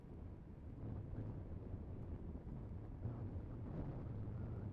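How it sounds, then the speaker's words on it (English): Strong wind buffets the microphone at a Falcon 9 launch site during a high wind warning, a steady low roar with gusty swells and no voices. "that strong wind warning is in effect currently"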